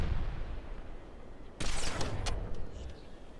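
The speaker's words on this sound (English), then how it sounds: "they are all one-shot kills because of the explosion" Sniper rifle fire cracks in the video game Halo 2: one sharp, loud shot, then a quicker follow-up report, over a low background rumble.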